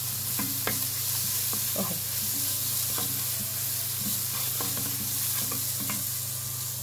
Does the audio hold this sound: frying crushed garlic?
yes